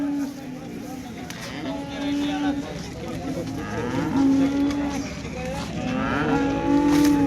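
Cows at the busy Modnimb rural cattle market in Maharashtra, several long, low moos rising and falling repeatedly, close and loud, with people talking and general crowd noise underneath.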